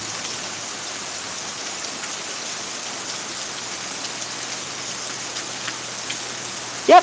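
Steady rain falls during a thunderstorm in Pittsburg, Kansas, a dense even hiss of drops on surfaces that holds constant throughout, with a brief louder bump at the very end.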